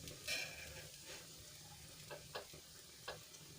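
A sandwich fries in a little oil on low heat, giving a faint, quiet sizzle with a few soft ticks and pops scattered through and no speech.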